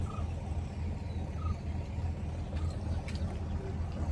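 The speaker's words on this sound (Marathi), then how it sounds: "गव्हर्नमेंटची होडी आहे किंवा बोट म्हणू शकतो." A government passenger boat's engine gives a steady low rumble throughout, close and continuous, with water and background noise mixed in.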